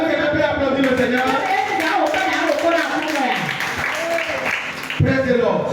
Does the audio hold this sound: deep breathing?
no